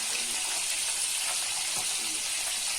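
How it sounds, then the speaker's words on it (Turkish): A pan hisses and sizzles continuously as fish fries in hot oil, a steady crackling spray with faint scraping underneath. "Balık kızartıyorum ya."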